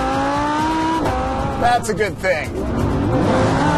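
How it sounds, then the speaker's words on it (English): A 2016 Lamborghini Huracan supercar revs hard, its engine note climbing and shifting through rising tones before settling, loud and close, with a person speaking briefly over it. "Huracan, not exactly a quiet car."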